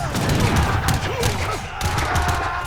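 Cannon booms and rapid gunfire from Age of Empires rattle in dense bursts, a volley of shots with heavy thuds, loud and continuous.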